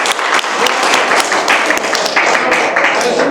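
Audience applause at a community parks and recreation planning workshop, a steady dense patter of many hands clapping that carries through the whole stretch at an even, fairly loud level.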